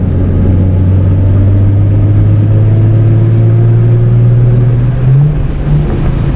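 A 2008 V6 Mustang engine drones steadily from the driver's seat, its low hum climbing in pitch toward the end as the car accelerates, with no talking.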